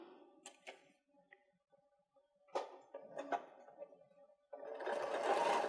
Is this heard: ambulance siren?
no